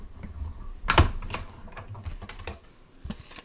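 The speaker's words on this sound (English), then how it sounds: "I love the Stampin' Cut and Emboss machine in that if you're left-handed, you can crank with the other hand" A Stampin' Cut and Emboss die-cutting machine cranked by hand, making soft mechanical clicks and rolling rattles, with a sharper burst near the start and another toward the end, close and moderately quiet.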